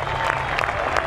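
Crowd applause at a surfing competition, a brief, steady wash of clapping with a few sharper claps standing out.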